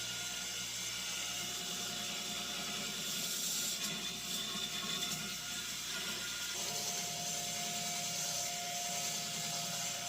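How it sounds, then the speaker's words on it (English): Belt sander profiling a knife handle, a continuous loud whirring hiss with a steady motor drone and a brief rise in grinding and rubbing partway through, no voices. "I'm going to do the rest of the profiling on belt sander."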